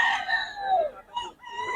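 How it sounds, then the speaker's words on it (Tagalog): A rooster crows in a long, loud drawn-out call, and then a second shorter crow follows, among a group of chickens at close range. No talk. "Ito maraming manok to mga idol"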